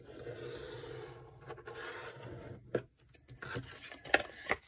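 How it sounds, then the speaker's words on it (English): Folded paper being burnished along a score line, soft rubbing and scraping strokes close up, followed by a few sharper crinkles and taps as the fold is pressed. "I'm going to fold this and burnish it."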